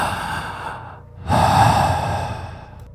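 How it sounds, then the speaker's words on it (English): Heavy, close breathing used as a horror sound effect: a long drawn breath fading out, a brief pause, then a louder rasping exhale that trails off, with no talk. "There was something breathing in the corner of my room."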